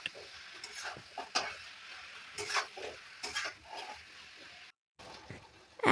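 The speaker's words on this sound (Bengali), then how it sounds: "এগুলো দিয়ে আমি মিডিয়াম আঁচ দিয়ে ভালো করে ভাজা ভাজা করে নেব।" Chopped seeded-banana vegetables with salt and turmeric fry in a pan over medium heat, with repeated scraping stirs and soft sizzling in uneven bursts and a brief silent gap near the end.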